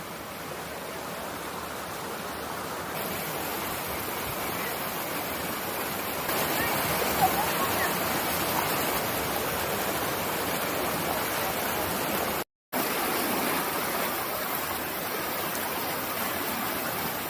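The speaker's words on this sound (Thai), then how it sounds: "ก็คือบรรยากาศของน้ำตกห้วยจันทร์อำเภอ ขุนหารจังหวัดศรีสะเกดครับ" Steady broadband rush of Huai Chan waterfall in Khun Han, Sisaket, Thailand, water pouring continuously and loudly close by, swelling slightly partway through with a brief dropout near the end.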